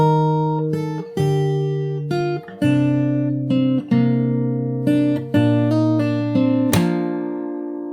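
Fingerstyle acoustic guitar plays a turnaround as a sequence of ringing plucked chords and bass notes, ending on a sharp percussive slap that rings out, loud and close with no talking.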